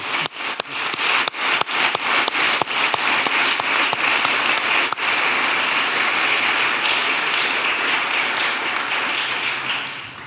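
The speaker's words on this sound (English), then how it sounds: "So if we could just give them a round of applause" An audience at a U.S.-Asia policy panel event gives the panelists a round of applause. Sharp, separate claps at first quickly build into a dense, steady wash of clapping that fills the room for about ten seconds.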